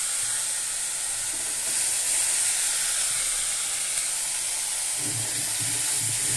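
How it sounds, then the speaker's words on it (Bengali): Leafy greens frying in a pan give off a steady, close sizzling hiss that stays even and continuous, with faint clatter underneath near the end. "শাক ভাজি করব।"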